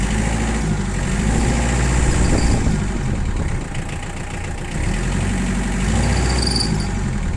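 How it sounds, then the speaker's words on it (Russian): A Mitsubishi MT285 four-wheel-drive tractor's diesel engine runs loud and close, its rumbling pitch rising briefly as it revs, then settling back to a steady idle chug. "Давайте чуть дадим ему оборотов, чтобы было видно выхлоп."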